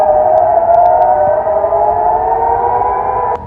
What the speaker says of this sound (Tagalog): Pinatunog ang sirena sa Jerusalem sa pag-ulan ng Iranian missiles